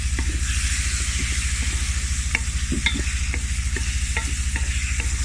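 Chicken pieces fry in a pan for macaroni, with a steady close sizzle and an even rhythm of spatula scrapes and clinks as the meat is stirred.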